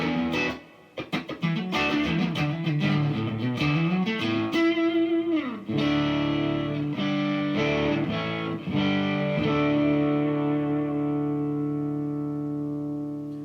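Clean Fender Stratocaster electric guitar through a Bare Knuckle neck pickup with 1963-style spring reverb, strummed chords and picked notes ringing out continuously and loud, with a long reverberant tail and no voices.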